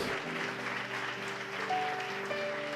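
Church congregation applauding the Lord, a diffuse, moderately faint wash of clapping sustained throughout with a held tonal hum of music underneath.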